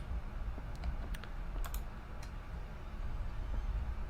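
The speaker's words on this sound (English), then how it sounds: "Oh, typewriter. Excellent, I can get my thoughts out." Typewriter keys clacking in a horror video game, a loose run of quiet mechanical taps and ticks set over a steady low background hum, with no voices.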